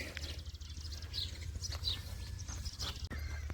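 A mare being led out at a farm, with soft hoof clops and shuffling close by over a steady low rumble, while birds chirp and tweet in the background.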